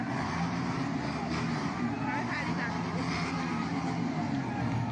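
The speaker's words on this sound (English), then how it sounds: "Kind of just revving up the bikes." Steady, loud engine rumble from several revving police motorcycles, continuous throughout, with a busy protest crowd noise mixed in.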